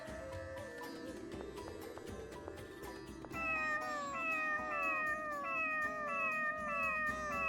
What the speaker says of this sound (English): why did it meow once the first time you talked to it and then double meow all the others?